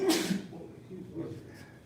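A single sharp sneeze bursts out near the start, followed by quieter breathing and faint voices in the background.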